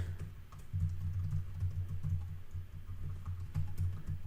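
Someone types an email address on a computer keyboard, a steady run of soft, close key clicks with uneven rhythm over a low background hum; no voices.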